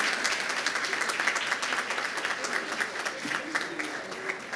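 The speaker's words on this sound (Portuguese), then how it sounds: "Uma salva de palmas para nossas meninas." Audience applause at a university scientific initiation conference, a steady wash of many hands clapping across the whole stretch with no pauses.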